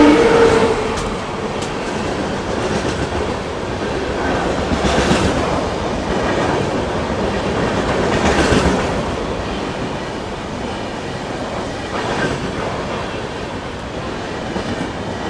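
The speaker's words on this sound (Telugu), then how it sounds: "వెనకాలే ఇంకో బండి అయితే వస్తుంది అటుపక్క నుంచి" A train passes close by, its wheels clattering on the rails in uneven bursts over a steady roar that swells and fades.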